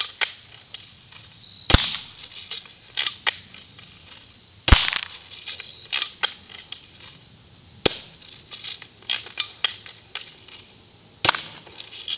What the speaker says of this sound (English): One point blank shot.